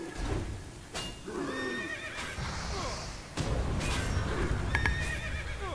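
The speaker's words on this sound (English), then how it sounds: "the horse isn't attacking me, that's good" Several horse whinnies and neighs in the video game World of Warcraft's Karazhan ring out over a busy, noisy background with sharp clattering hits and hoof-like clopping.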